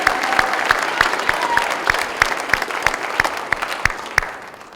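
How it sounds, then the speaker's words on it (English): Sustained applause with dense, steady clapping from an indoor crowd at a recruit academy graduation ceremony, loud and even throughout with no talking over it. "let's give a round of applause"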